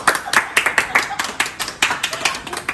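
A few people clap in an even, rhythmic pattern to celebrate a YouTube 100,000-subscriber silver button award. The claps are crisp and close, about six per second, with a little voice underneath.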